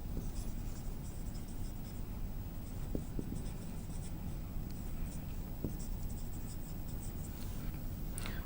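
Chalk or marker writing on a classroom board, soft scratchy strokes and occasional taps repeating steadily throughout, fairly quiet over a faint room hum.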